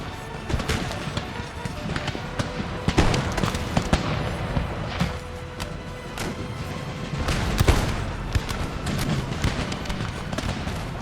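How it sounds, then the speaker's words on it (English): Line infantry fire musket volleys in Empire Total War during the Battle of Brussels, 1700, against Dutch infantry. A dense, crackling barrage of overlapping shots and sharp cracks runs continuously, with a few louder bursts standing out. "the line infantry starts to give a general fire towards yet more Dutch infantry coming over the crest of the hill there"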